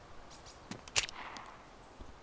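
A single faint gunshot from a 1911 pistol fired out of a window in the video game DayZ: one quiet, distant-sounding crack with a short tail over a low, steady background.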